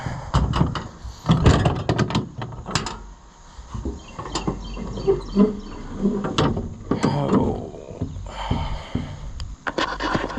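Sharp clicks, latch clunks and scrapes come from opening a pull-tab access door on a Cat 320 E L excavator, up close in an outdoor setting, with some breathing audible.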